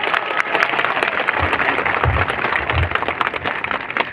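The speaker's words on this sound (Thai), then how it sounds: "ขอเสียงปรบมือต้อนรับ ท่านขุนขอนสมศักดิ์เกียรติสุรสเลยครับ" Crowd at a political rally in Chum Phae, Khon Kaen, claps loudly to welcome a speaker, dense continuous applause filling the whole span.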